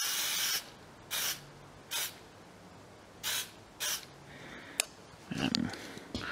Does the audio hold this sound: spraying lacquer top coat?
yes